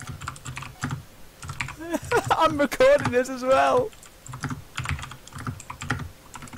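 A loud computer keyboard clatters with steady typing throughout, running under casual talk between players during a Minecraft server gambling session.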